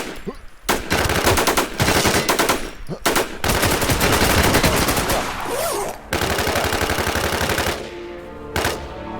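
Rapid automatic gunfire from the video game Valorant rattles out in several loud bursts separated by short pauses, with sharp repeated shots close up.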